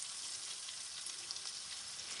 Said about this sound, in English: I'm just frying the onions